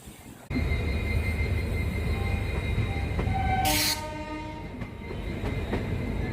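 The Muri Express passes close by during a crossing with the Duranto Express, heard from on board as a loud, continuous rumble of a passing train. Brief high squeals and tonal notes rise partway through, with no talk.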